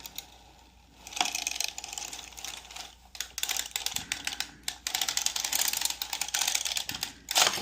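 A knitting machine carriage makes a pass while knitting a glove, a run of rapid mechanical clicking and clattering with uneven bursts and soft sliding, fairly close and alone.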